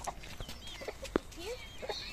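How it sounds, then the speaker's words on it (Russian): Chickens cluck softly and sporadically nearby in a coop in a Turkish village, with a sharp knock partway through and quiet voices in the background. "Посмотрите, какой наш огромный петух."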